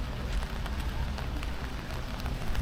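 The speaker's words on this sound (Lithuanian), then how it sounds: "tik ką pakalbėjau, praėjo 2 sekundės lietus" Steady rain pattering on a surface in Tallinn, Estonia, a continuous close hiss with scattered drop ticks and no voices.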